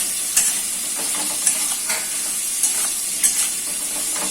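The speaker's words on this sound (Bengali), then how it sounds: "এখানে আলু, পটল আর ঝিঙে 3টে কাটা রয়েছে, সেটা এখানে দিয়ে দিচ্ছি" Cut potatoes, pointed gourd and ridge gourd go into a hot frying pan with softened tomato, giving a steady hiss under periodic scraping stirs about once a second, close and fairly loud.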